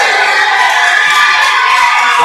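A loud, dense crowd cheers and shouts without a break inside a high school gym during a district quarterfinal boys' basketball game, with youthful yells rising above the steady roar.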